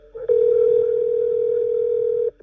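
A single telephone ringback tone sounds on a recorded 911 emergency call, one steady, clear electronic tone lasting about two seconds, with no one answering.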